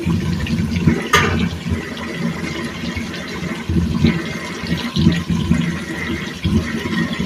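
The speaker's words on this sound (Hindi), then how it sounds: "मसाला अच्छी तरह भूनने के बाद हम इसमें शामिल करेंगे 4 गिलास पानी" Four glasses of water pour into a pan of fried chicken nihari masala, a steady loud gushing splash that runs unbroken for several seconds with no talk over it.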